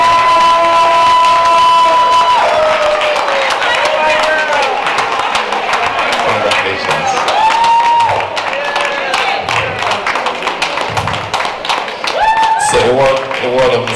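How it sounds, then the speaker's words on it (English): A church gala crowd claps and cheers loudly for an award recipient, with the dense clapping mixed with shouts, voices and music playing throughout. "Please a round of applause for her."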